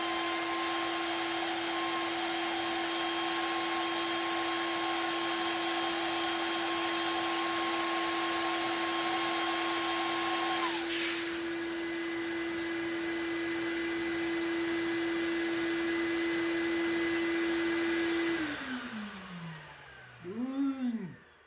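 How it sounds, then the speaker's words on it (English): A vacuum cleaner runs steadily through a dust separator and a 20-foot hose, giving a loud continuous whine with a strong tonal hum, a pitch shift partway through, then winding down and spinning to a stop at the end. "Vacuum connected to a dust separator connected to a 20-foot hose."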